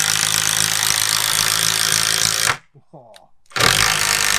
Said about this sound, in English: Effortless, the FERREX Pro Impact Driver.